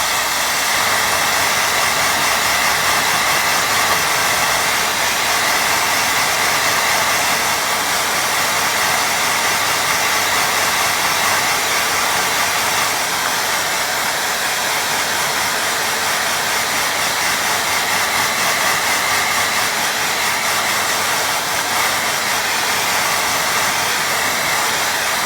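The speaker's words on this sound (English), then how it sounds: "let's give that a good old blow dry" A hair dryer blows steadily and loudly on a watercolour painting, a continuous whooshing hum that runs unbroken throughout with no one speaking.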